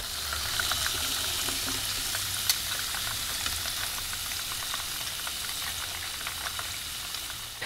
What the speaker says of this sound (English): We're going to drop in the shrimp and fry this for about 4 minutes or so until it's golden brown like this.